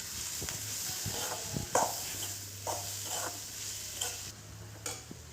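Masala being stirred in a pan after turmeric powder and curry leaves go in, with soft scraping strokes and faint sizzling heard up close, no talking.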